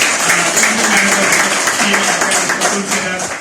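An audience at a gathering claps loudly and continuously, a dense wash of applause with a faint tonal hum of a voice or music beneath it.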